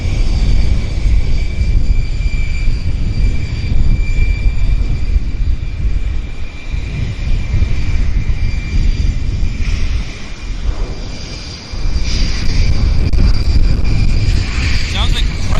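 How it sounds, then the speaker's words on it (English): A Bombardier Challenger jet under engine testing at Vancouver YVR airport roars loudly and continuously, with the engine's compressor stalling and the roar briefly dropping and surging again a couple of times. "Sounds like they've got compressor stalls on the aircraft they're testing there on the Challenger."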